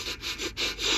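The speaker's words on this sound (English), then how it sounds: "And now a sniff solo." Several quick, breathy sniffs at fresh Downy Unstoppables laundry, close and soft, with short pauses between them and no talk.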